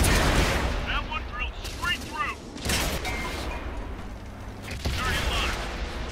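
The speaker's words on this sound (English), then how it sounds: "It sounds like you're firing a tank gun." Tank battle gameplay in World of Tanks on PS4, with heavy cannon blasts and incoming fire booming repeatedly over a dense, rumbling combat bed, loud and close.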